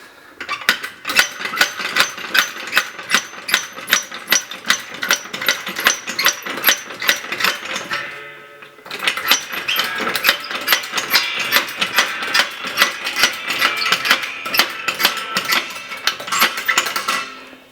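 A refurbished hydraulic trolley jack is pumped by its handle, producing a fast, steady run of metallic clicks and knocks close by, with a brief pause midway before the pumping resumes.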